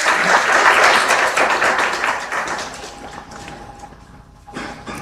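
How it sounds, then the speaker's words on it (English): Applause at a 24-hour hackathon for the guest of honor, loud dense clapping that peaks early and gradually thins out, with a brief faint tone and scattered claps near the end. "A big round of applause for our guest of honor for his wonderful speech."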